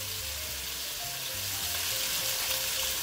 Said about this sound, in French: on va faire chauffer tout ça et on va colorer nos morceaux de faisan sur toutes les faces